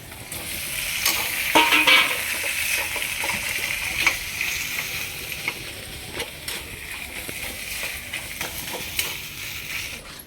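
Potatoes being stirred into spices in a frying pan give a steady soft sizzle with repeated scraping and clattering strokes of a spatula, fairly quiet and close, with no talking.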